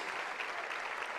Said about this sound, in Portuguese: Vamos aplaudir aí, igreja.